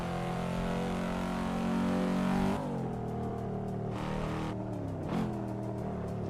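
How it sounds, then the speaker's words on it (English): A Cadillac CT5-V engine drones and revs steadily on a Shuto Expressway driving simulator, holding a loud tone before dropping pitch with gear changes and settling into a sustained cruise hum, no talking. "I'm driving the Cadillac CT5 V, and I'm with the interior of a Volvo S60R."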